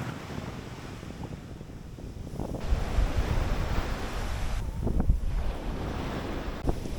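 Strong wind buffets the microphone on Radio Beach in Bimini, Bahamas, a steady roar with gusts swelling louder midway, surf washing underneath throughout.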